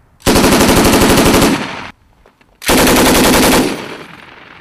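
An M240B machine gun fired by U.S. Marines on a live-fire range rips out two long, loud sustained bursts of rapid shots, separated by a brief pause.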